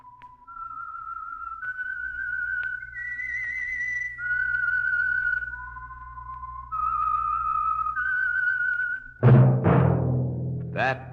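A person whistles the slow melodic theme of the radio program The Whistler, clear sustained notes stepping up and down, followed by a sudden loud burst of sound at the end.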